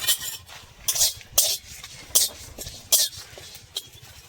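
Cumin seeds and dried red chillies dry-roasted in a pan with no oil, rhythmic scraping strokes of a spoon against the pan in bursts about every half second to second, close and crisp, with a faint rattle between.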